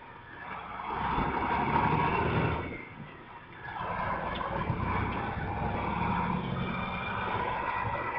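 A truck engine runs under load, its note holding, dipping briefly as it shifts gears, then settling back to a steady drone at low revs after the upshift into ninth gear.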